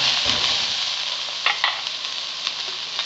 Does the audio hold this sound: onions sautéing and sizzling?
yes